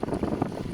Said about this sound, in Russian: Ветер лютейший.